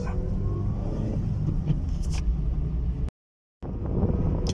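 Car creeping slowly in first gear through a U-turn during a driving test, a low, soft engine rumble with some wind noise, broken by a brief dropout of silence.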